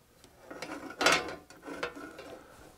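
Corroded screws on a small circuit board inside a meter are loosened, producing close metallic clicks and ratcheting creaks, with one louder scraping burst in the middle, with no speech.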